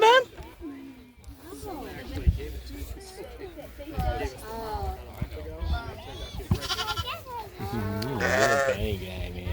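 Sheep bleat over and over at a sheep and fiber festival, with wavering calls overlapping from several animals nearby. Crowd chatter and voices run underneath.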